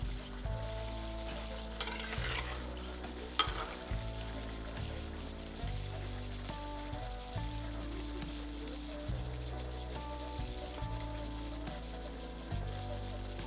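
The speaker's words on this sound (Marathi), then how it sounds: "तर फ्लेम आपली स्लो ठेवायची आणि असं सतत हलवून हलवून त्याला मस्त असे तळून घ्यायचे." Gulgule fry in oil over a low flame while being stirred constantly, a steady close sizzle with light scraping, set under soft background music and no talking.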